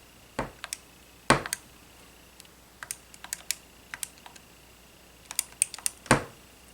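Calculator buttons pressed one at a time while working a math problem, sharp close plastic clicks scattered in small irregular clusters over a quiet background, no talking.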